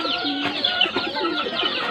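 Domestic pigeons coo at their coop, soft throaty rolling calls overlapping close by, with a brief chicken-like cluck mixed in.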